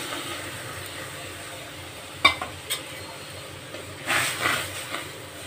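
Mustard paste hits a hot kadai and sizzles with a steady hiss. A couple of sharp clinks of a utensil follow, then a brief louder burst of sizzling. The sound is close, and no one speaks.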